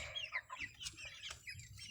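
Grown chickens at a farm cluck and chirp softly nearby in a few short, scattered calls over a quiet background.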